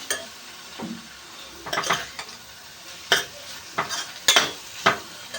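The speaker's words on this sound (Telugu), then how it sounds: "నేను అందుకనే ఆయిల్లో వేసి ఇలా వేగిస్తాను" Cubed potatoes being fried in oil in a pan for a potato curry, with intermittent clinks and scrapes of a spoon against the pan over a soft sizzle, no talking.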